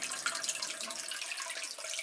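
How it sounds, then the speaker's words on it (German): Clear spring water splashes steadily into a fountain basin holding about 1200 liters at a farm estate, a continuous bright close-up burble with no voices. "kommt das Wasser reinplätschert in den Brunnen"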